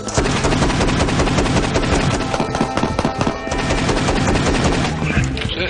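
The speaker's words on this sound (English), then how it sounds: "A single pull on the trigger fires 1 round. Hold it in, and I go fully automatic." Automatic shotgun fired fully automatic, a dense, very loud continuous stream of blasts with no gaps, heard close up for several seconds.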